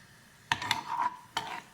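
A spoon stirs ginger brown sugar and tapioca pearls in a pot, giving a few short scraping strokes with brief pauses between them, close and fairly clear.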